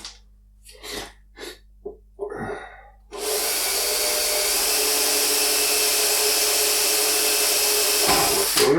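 A power drill bores through aluminium, starting with a few short bursts and then running in one long, loud, steady whine until it stops near the end.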